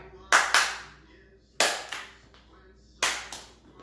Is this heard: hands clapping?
yes